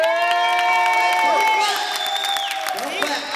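A comedy club audience claps and cheers with loud whoops and shouts, a dense crowd roar sustained throughout with voices rising above it.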